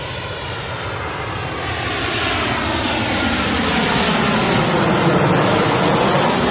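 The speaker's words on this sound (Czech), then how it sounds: "Takhle tady přes nás lítají letadla." A fixed-wing airplane passes low overhead near an airport on Zakynthos. Its engine makes a loud, steady roar that builds slowly and fills the whole clip, and no one speaks.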